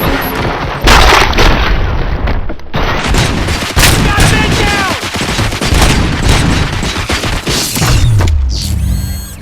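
Sustained gunfire and heavy booms from a firefight in the RoboCop: Rogue City video game, with dense rapid bursts and impacts running throughout, mixed with game effects and occasional voices.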